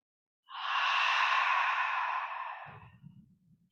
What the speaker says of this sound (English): see if you can breathe out just as slowly through the mouth.